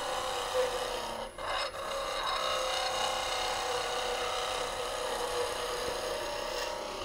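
A skew chisel cutting wood on a lathe, its lower third shaving the spinning workpiece: a steady, close, rasping hiss that runs unbroken for several seconds, dipping briefly twice, with no talk.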